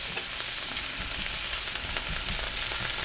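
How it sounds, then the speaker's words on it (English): Plant-based sausage browning in a pan gives a steady, dense sizzle and crackle of frying that runs unbroken and fairly loud, with no voices. "we're just going to brown that up. It browns quite nicely,"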